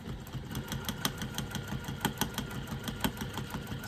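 A sewing machine stitching a wallet's exterior panel along the bottom of a pocket at a 3/8-inch seam allowance: a steady, rapid mechanical chatter of evenly spaced needle strokes, close and alone.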